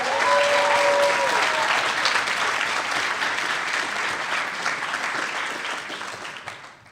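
Sustained applause from a crowd at a university volleyball season banquet, loud and dense from the start, holding steady for several seconds and then slowly fading out near the end.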